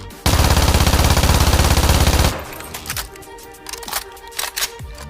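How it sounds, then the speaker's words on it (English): Kriss Vector submachine gun in .45 ACP fires one loud, rapid, continuous automatic burst of about two seconds, then cuts off to quieter clicks and handling noises. "A submachine gun, a mini assault rifle, a weapon familiar to all fans of Call of Duty and Battlefield."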